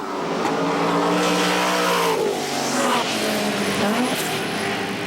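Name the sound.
race car engine revving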